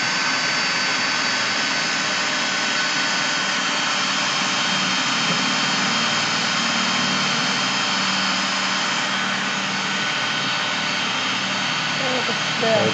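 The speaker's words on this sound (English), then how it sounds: "go ahead and drill into the material" A power drill cuts into a Slate-Lite stone veneer sheet with a wood base, giving a steady, loud, high whirring grind that holds for about twelve seconds. Faint voices can be heard underneath.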